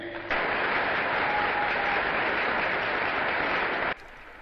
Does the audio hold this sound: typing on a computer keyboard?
no